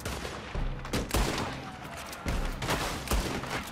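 Gunshots in Red Dead Redemption 2 Online: a string of loud, close shots at irregular intervals, several sharp reports spread across the clip over a constant background of ambient noise.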